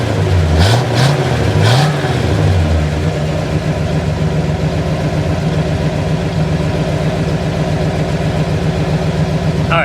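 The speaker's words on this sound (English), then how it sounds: "Let's set the camera down and give it a rev." A 1968 Pontiac GTO engine blips through a few quick revs, then settles into a loud, lumpy idle close by.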